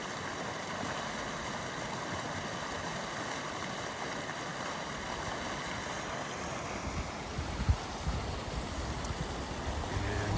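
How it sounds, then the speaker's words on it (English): Panther Creek flowing past a campground area, a continuous rushing wash of water heard steadily and fairly close, with a slight swell toward the end. "And I can hear some water."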